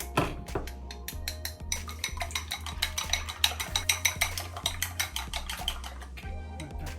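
Soup ingredients with salt and black pepper are stirred briskly in a pot, a rapid series of sharp metallic clinks and scrapes of a utensil against the pot over a low hum.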